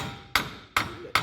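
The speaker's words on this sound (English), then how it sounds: "So I've taken all 4 bolts off and I'm just hammering the axle" A hammer striking the front axle of a Land Rover Discovery 3 to drive it back into the spline, three loud sharp metallic blows at an even pace, close up, each ringing briefly.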